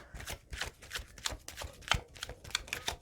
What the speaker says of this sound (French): Alors les cartes sont au préalablement déjà battues afin que je ne brasse pas trop longtemps